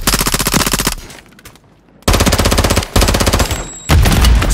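Rapid automatic gunfire in the Call of Duty video game, loud and close, firing in sustained bursts with a brief lull before resuming in several more heavy volleys.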